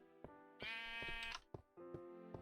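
Sheep bleating in the Minecraft video game, several clear, loud bleats in quick succession with short gaps between them, heard up close with no talking.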